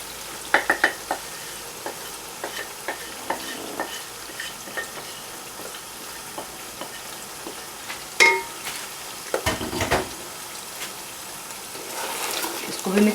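Onion, ginger and garlic fry in a pan with spices added, giving a steady low sizzle broken by scraping stirs and a few clinks of a spoon against the pan, with brief louder knocks midway.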